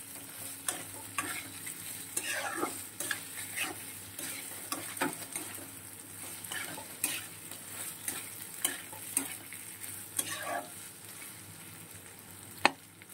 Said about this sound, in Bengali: মশলা কিন্তু অনেকটা কষানো হয়ে গেছে।